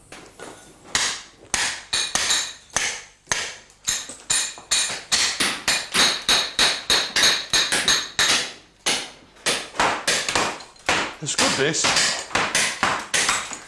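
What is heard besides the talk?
hammering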